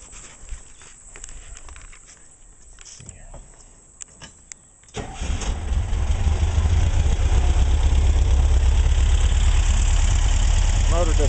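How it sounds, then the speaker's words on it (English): The motor of a 1967 Volkswagen camper bus cranks, then catches and settles into a loud, steady running rumble close by, after a few seconds of quieter handling clicks and knocks. "we're going to do a little video, short one here of the motor starting up and running"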